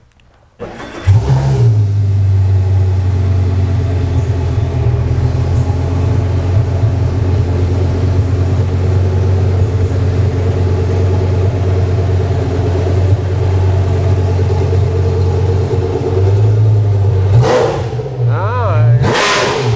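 An Audi R8 LMS Ultra race car engine fires up with a sharp crank, holds a loud, rumbling idle close by for a long stretch, then blips with a couple of revs near the end.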